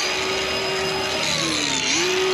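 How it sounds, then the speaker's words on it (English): A grinder cuts off bolts on old stall gates, a loud, continuous high-pitched whine with its pitch dipping briefly under load before recovering. "We're going to grind these bolts off."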